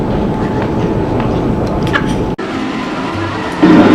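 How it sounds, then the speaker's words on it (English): A Paris metro train rolls along with a loud, steady rumble and rattle of the carriage, a sharp brief dropout midway, then a slightly louder surge near the end. "I get on the train to go to my next destination."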